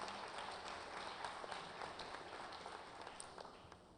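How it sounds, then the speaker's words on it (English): A live event audience claps in a dense, even patter, faint and distant-sounding, holding steady before thinning out slightly toward the end. "Round of applause."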